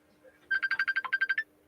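A mobile phone ringing with an incoming call, a rapid electronic trill of about a dozen evenly spaced tones in one burst, fairly close and clear over a quiet room.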